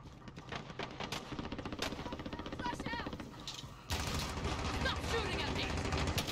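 Gunfire in the Call of Duty Warzone battle royale video game: rapid automatic bursts and scattered single shots, loud and close, continuing over dense combat noise, with voices mixed in.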